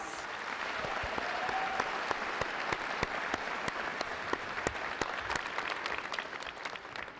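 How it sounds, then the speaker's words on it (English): An audience at a commencement ceremony in Newark, New Jersey, applauds new doctors. Steady, full crowd clapping continues throughout with sharp individual claps standing out, heard at a moderate distance in a large hall. "So I'd love for us to give them a round of applause."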